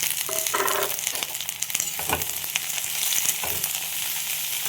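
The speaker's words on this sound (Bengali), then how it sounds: "যে কুঁদরুগুলো কেটে নিলাম সেগুলো আমি দিয়ে দিলাম।" Chopped ivy gourd fries in a hot pan with a steady, crackling sizzle punctuated by stirring clinks and scrapes, close and alone.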